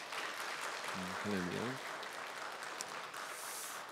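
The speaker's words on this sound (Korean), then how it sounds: "성가대원들을 위해서도 우리 한번 힘내라고 격려의 박수를 한번 쳐주시기 바랍니다" A church congregation applauds to encourage the choir at a Sunday service, a dense, steady wash of clapping heard from a distance, with a brief spoken exclamation near the start.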